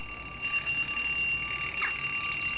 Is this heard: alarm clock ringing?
yes